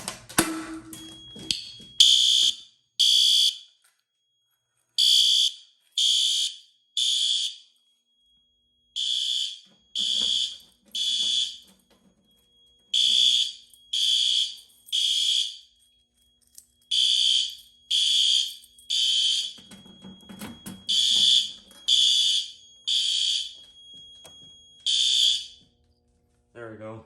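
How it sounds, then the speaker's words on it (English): A fire alarm on a Notifier system, set off at a Silent Knight pull station, sounds in repeated bursts of three loud, shrill electronic tones separated by short gaps, close and continuous, with faint background noise between bursts. "So we're gonna pull the fire alarm today."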